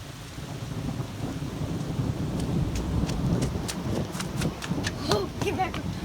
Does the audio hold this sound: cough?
no